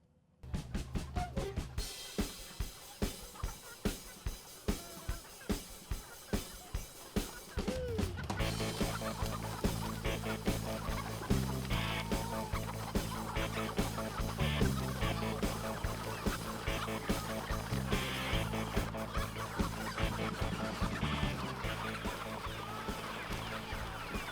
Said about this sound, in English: Soon, they were out scratching, pecking, and doing what chickens do.